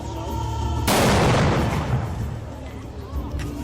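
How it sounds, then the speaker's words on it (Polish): A single loud gunshot from a firearm cracks out, its boom ringing and decaying over a couple of seconds against a faint background hum. "Uwaga, będzie strzał."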